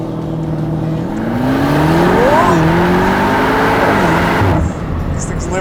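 A 2021 Audi RS7 launches in launch mode for a 0-60 run, its engine roaring loud and rising through gears with audible shift dips before easing off near the end.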